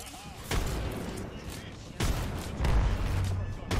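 Airstrike and gunfire in the video game Apex Legends: rumbling blasts and dense bursts of fire that keep swelling, with heavy booms around the middle and end, mixed with game sound and voices.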